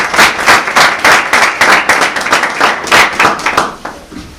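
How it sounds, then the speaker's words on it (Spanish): An audience at a lecture on the unknown history of the New Testament breaks into loud, close applause, a thick run of many hands clapping that thins slightly toward the end. "lo que se merece en este momento es un aplauso"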